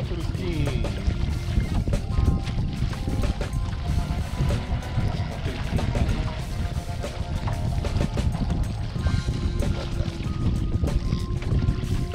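Cold wind blows steadily across the water on a fishing outing, a continuous rough rumble buffeting the microphone for the whole stretch with faint splashing mixed in.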